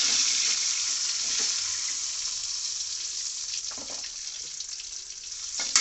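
A fish head sizzles and crackles steadily in hot oil in a pan, a close, continuous frying hiss with a few faint clinks.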